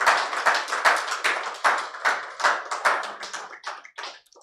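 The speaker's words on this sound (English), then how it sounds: "Ladies and gentlemen, a resounding applause for Dr." A seated audience applauds a speaker, an endocrinologist and scholar, at a televised business event, with dense, steady clapping that fades toward the end.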